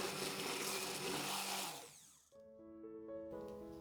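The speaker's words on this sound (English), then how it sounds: "And then blend until that's mostly smooth." A blender whirring loudly through lemon zest and fruit for about two seconds, then spinning down and stopping, followed by a quiet tonal musical background.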